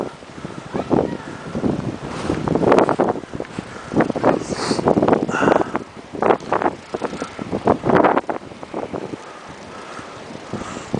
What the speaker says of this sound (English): We're still getting considerable blowing and drifting snow, gusts to 30 miles an hour or so right now.